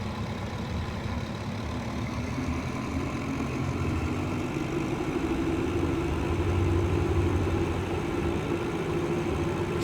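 Twin piston engines of a Piper Twin Comanche in X-Plane 11 held at 2000 RPM, a steady droning hum with a low rumble that holds evenly throughout, rising slightly in intensity partway.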